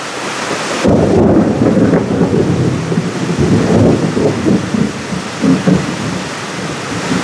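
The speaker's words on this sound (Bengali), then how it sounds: "পুরো ঝমঝমিয়ে বৃষ্টি নেমেছে, আর জোরে জোরে বাজ করছে।" Heavy rain pours steadily at a hill resort in Purulia while deep thunder rumbles roll in loud and close, a sharp crack opening the first long rumble and more swelling later.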